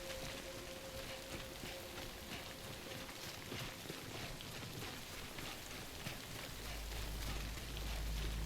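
Steady, even rain falls throughout a Death Stranding game scene, a constant soft hiss that grows slightly louder near the end, with no voices.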